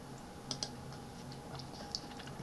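Light typing on a computer keyboard while entering a formula in Word 2019: a few scattered, crisp key clicks, a couple close together, over a quiet room hum.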